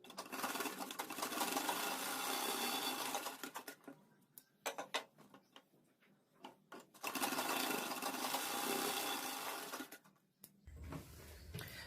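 A sewing machine runs in two long, steady bursts while stitching a dress shoulder seam, with a quieter gap of scattered clicks and handling noises between them. No voices are heard.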